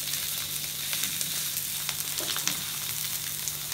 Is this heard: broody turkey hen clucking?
no